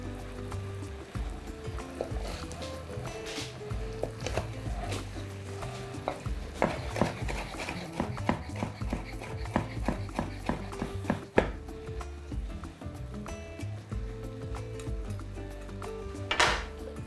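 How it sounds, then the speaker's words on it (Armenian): A knife finely chops food on a board in a home kitchen, with quick irregular close taps clustered into bursts over steady low background noise. "Մանր կտրատում ենք։"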